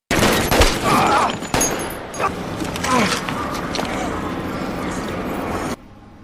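Gunfire in a movie scene where police and FBI agents shoot a surrounded man: a close, dense burst of rapid shots and crackling impacts over several seconds that cuts off abruptly.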